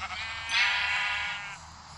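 A single sheep bleats once in a video game, a wavering, nasal bleat lasting about a second, close and clear.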